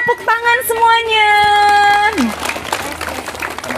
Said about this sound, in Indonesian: Wah, tepuk tangan semuanya.